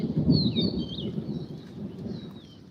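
Steady rain pours outdoors on a hot day, a soft continuous patter with a low rumble beneath and faint bird calls drifting in and out.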